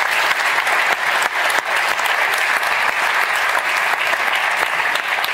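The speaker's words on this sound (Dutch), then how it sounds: "Mag ik een applaus voor de panel?" An audience at a Dutch panel event on the future of football applauds the panel in one sustained burst of loud, dense clapping from a sizable crowd throughout.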